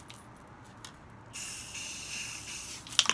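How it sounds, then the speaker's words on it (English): Spray paint can hissing paint into water for hydro-dipped marble coffee mugs, a steady close hiss starting partway through and running to the end, with a few clinks at the close. "I'm going to spray some paint in here."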